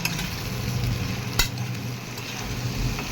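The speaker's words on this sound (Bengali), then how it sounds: "আর একটু নেড়ে নিলাম" Steady sizzling of potatoes frying with salt and turmeric in a pan, with soft scraping of stirring, a single sharper clatter partway through, no voices.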